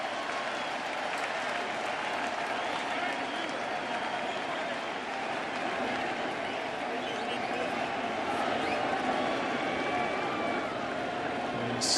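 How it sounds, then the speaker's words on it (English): World Series baseball crowd at the Houston Astros vs Washington Nationals game cheering on a batter returning to the box, a continuous dense roar of applause and voices from a large stadium audience with commentary over it. "as this crowd tries to cheer him on"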